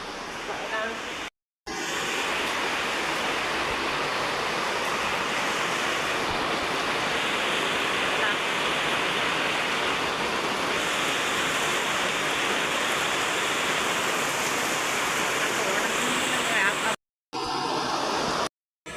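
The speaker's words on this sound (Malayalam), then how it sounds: "നമ്മളിവിടെ ഭയങ്കര മഴയാണ് കേട്ടോ." Heavy rain pouring outside during a Kerala downpour, a dense, steady roar of falling water that runs throughout, with brief breaks at a couple of edits.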